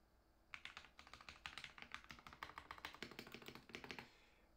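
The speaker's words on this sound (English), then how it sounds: "Listen to this keyboard. This keyboard sounds awesome." Rapid typing on a Ducky One 2 Mini mechanical keyboard fitted with lubed Cherry MX Silver switches, a dense run of crisp, close keystrokes with a few heavier presses, heard alone for about four seconds.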